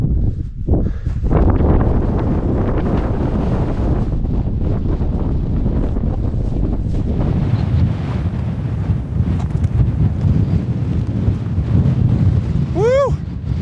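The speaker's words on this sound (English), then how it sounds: "Pardon the wind, it's blowing about 35, 40 miles an hour up here." Strong wind of about 35 to 40 mph on a mountain ridge buffets the microphone in a constant loud roar, gusting throughout, with a brief chirping whistle near the end.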